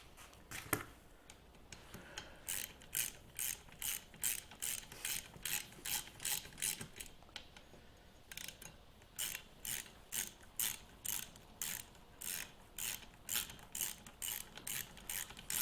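A hand ratchet tightens bolts during reassembly of a 1948 Farmall Cub tractor, clicking in quick, even runs of ratcheting strokes with short pauses between them, close and clear, with no talk.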